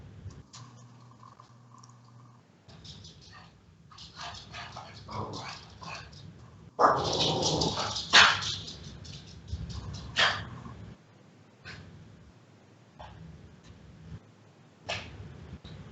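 During a Magic: The Gathering match broadcast, a dog yips and whimpers through a stretch of soft background noise, with a louder cluster of barks in the middle and scattered faint clicks.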